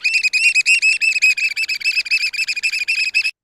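Oystercatchers at Carpinteria give a rapid, unbroken series of shrill, high piping whistles, each call short and sharp, running steadily for about three seconds before stopping abruptly, with no talk over it.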